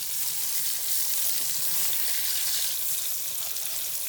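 Eggplant slices fry in hot oil with turmeric, chili and salt, giving a continuous, even hiss and crackle that stays close and steady.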